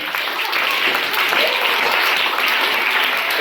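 A crowd's sustained applause for a writer after a song at a Telugu language gathering, dense steady clapping close up that fills the whole stretch without pause.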